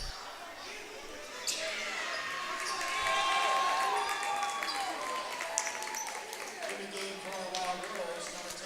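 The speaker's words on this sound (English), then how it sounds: "that's a round of applause going for the senior, Sam Grivach" Crowd at a boys' high school basketball game applauding a senior player, a broad wash of clapping and cheering with sneaker squeaks from the court and a few sharp knocks, while voices carry over it.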